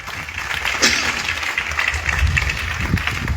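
A church congregation applauds the Lord, a steady wash of clapping lasting a few seconds with murmuring voices mixed in.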